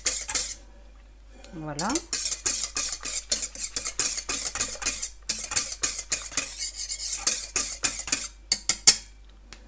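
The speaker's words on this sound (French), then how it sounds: "on va mélanger jusqu'à ce que le sucre soit bien fondu." A utensil stirs sugar in a bowl until it dissolves, clinking and scraping against the sides in a steady, close rhythm for the whole stretch; a voice briefly says a single word.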